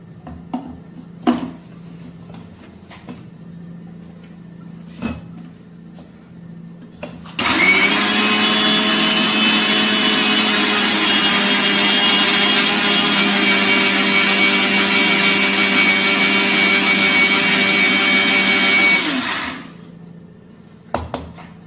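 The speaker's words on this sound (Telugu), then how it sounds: "ఇదంతా మిక్సీ జార్లోకి తీసేసుకుని మనం మిక్స్ చేసుకోవాలి" A mixer grinder whirs loudly for about twelve seconds in one steady high-pitched motor drone while grinding a fine powder in its jar, framed by quiet clicks and handling sounds before and after.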